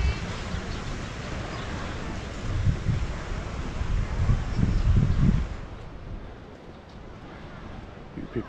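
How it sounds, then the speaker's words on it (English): Sea breeze blowing along the shore at Palmanova, a steady rushing wind noise with choppy water beneath, swelling louder for a few seconds before easing off to a quieter hiss. "There's a bit of a breeze out there, so the water's a little bit choppy"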